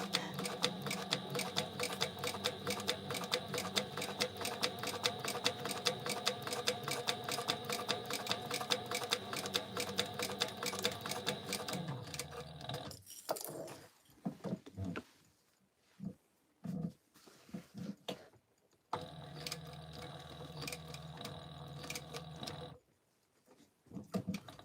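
A sewing machine stitching a notebook cover runs in a fast, even mechanical chatter for about twelve seconds, then stops and starts in short bursts and a final longer run, close and clear.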